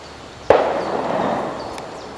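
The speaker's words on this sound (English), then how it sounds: "You can hear them clay pigeon shooting in the background" Distant clay pigeon shooting: a single sharp gunshot crack carries across an open fishing lake, followed by a rolling echo that slowly fades, with a faint second report in the background.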